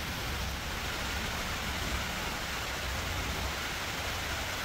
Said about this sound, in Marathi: वर पाऊस चालू झाला आहे